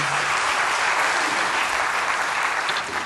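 A congregation at a church service applauds in a dense, steady burst of clapping that fills the room and fades slightly at the end.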